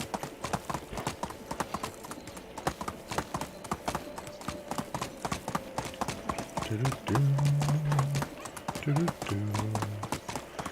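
Steady clip-clop of hooves trotting at a brisk, even rhythm in Medieval Dynasty, with a horse's whinny near the end and game music in the background.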